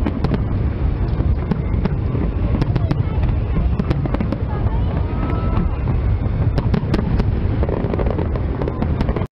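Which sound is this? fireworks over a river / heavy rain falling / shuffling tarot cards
fireworks over a river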